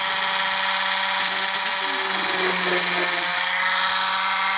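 A small power drill bores a hole in a metal part for a DJH BR 2MT model locomotive kit, giving a steady high whine with brief changes in pitch as the bit bites.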